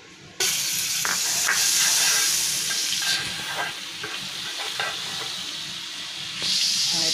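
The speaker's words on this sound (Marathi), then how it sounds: "मी आता इथे थोडं बटर टाकते." Butter hitting a hot pan for an egg roll, an abrupt onset of loud, steady sizzling and spattering that continues close up, with no talk.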